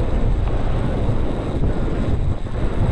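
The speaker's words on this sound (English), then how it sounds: "that wind's really picking up and it's bitter" Strong, bitter wind on Ben Lomond, a Scottish mountain, at a steady 20 miles an hour, roaring and buffeting loudly and continuously against the microphone with no voices.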